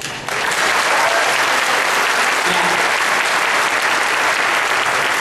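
A political conference audience gives loud, sustained applause during a speech on repealing Obamacare, with a dense wash of clapping that starts suddenly and holds steady to the end.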